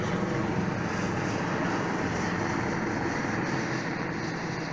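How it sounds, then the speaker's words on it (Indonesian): Steady roar of a helicopter passing overhead, constant and fairly loud throughout, with no talking. "Ada helikopter lewat."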